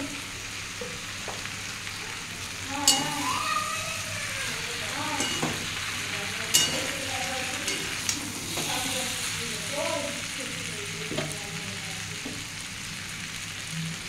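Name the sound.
katoya data stalks frying and stirred in a pan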